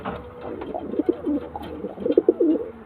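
Pigeons of the same bloodline, kept for flying, coo in a loft, a few soft, rounded calls rising over a low background hum, close and fairly clear.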